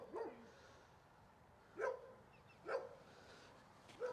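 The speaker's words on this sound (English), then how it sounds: "one dog that didn't know who that real estate agent was and decided to say good day" A dog barks at a real estate agent in a quiet residential setting, giving four single sharp barks spaced about a second apart, mid-distance and fairly clear against faint background hiss, with no talking.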